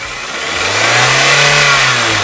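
Engine being started and revving, a close, loud mid-pitched car-like motor rising in pitch then easing off over a couple of seconds, with no talking.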